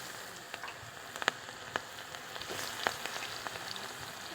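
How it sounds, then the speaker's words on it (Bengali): Chopped onion frying in hot oil with whole spices (bay leaf, cinnamon, cardamom), a soft steady sizzle with scattered sharp pops and crackles, fairly quiet and close, no talk. "এরপরে পেঁয়াজ কুচি দিয়ে নেব।"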